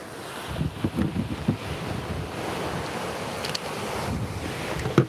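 Steady ocean surf and gusty wind on an Outer Banks beach during surf fishing, a continuous wash of breaking waves with wind buffeting the microphone, no voices.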